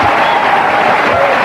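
A wrestling crowd applauds and cheers in a brief, steady burst of dense clapping that stays loud throughout.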